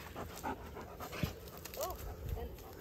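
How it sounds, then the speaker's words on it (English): Several household dogs, one a large dog of about 85 pounds, pant quickly and rhythmically close by, with a few soft whimpers, while people talk quietly in the room. "So those are the dogs."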